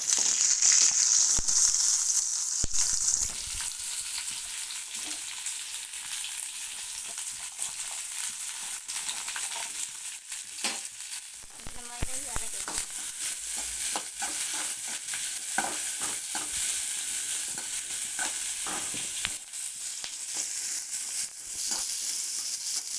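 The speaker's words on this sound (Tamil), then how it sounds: "வெங்காயம் கொஞ்சம் லைட்டாக கலர் மாறணும், அது வரையும் வதக்கணும்" Chopped onions sauté in a little oil in a pan, giving a steady sizzling hiss with repeated scraping and stirring strokes throughout, close and moderately loud, with no talking.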